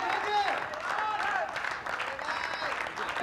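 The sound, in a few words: crowd applause at Ranji cricket match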